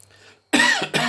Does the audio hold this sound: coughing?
yes